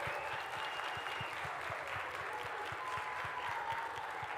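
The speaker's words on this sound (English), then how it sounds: "give us a round of applause" Steady applause from a festival audience at a Native arts event, fairly faint and distant, with a low rhythmic thumping running beneath the clapping.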